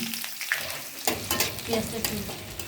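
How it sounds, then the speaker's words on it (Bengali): Onions fried with spices including cloves and black peppercorns in a pan for beef liver bhuna, a steady close sizzle broken by scraping stir strokes throughout. "এভাবে পেঁয়াজটা সহ মশলা কষিয়ে নিতে হবে ব্রাউন কালার আসা পর্যন্ত"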